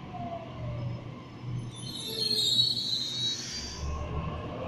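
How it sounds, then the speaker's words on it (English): A Sydney train pulls away from the station platform, a steady low rumble of wheels and motors with a high metallic squeal rising in the middle, heard from nearby without talk. "A56 now departing."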